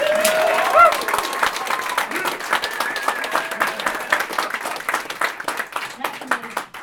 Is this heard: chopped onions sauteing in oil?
no